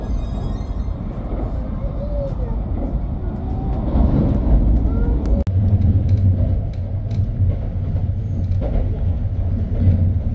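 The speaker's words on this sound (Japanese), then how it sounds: "列車は多摩川を通過すると東京都へ入ります。" Onboard a Tokaido Shinkansen N700S Kodama train running near the Tama River, a loud steady rumble of wheels and motors fills the cabin, with a sharper rail knock partway through.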